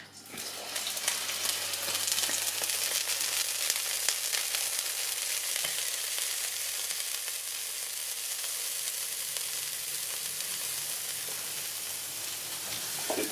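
Shrimp frying in olive oil with chili in a warm pan, an even, steady hiss of sizzling that holds at moderate loudness throughout, with no voices.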